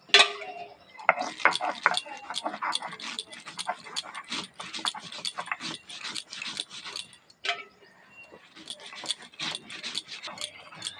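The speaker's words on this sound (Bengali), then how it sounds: "2 রকম সর্ষেটা আগে বেটে নেবো।" Two kinds of mustard seed are ground on a shil-nora grinding stone, making rapid, rhythmic gritty scrapes and knocks in close bursts with one brief pause partway through.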